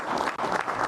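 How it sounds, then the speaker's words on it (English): A crowd claps behind a city mayor at a public appearance, a brief burst of dense applause. "Look, they're clapping for this."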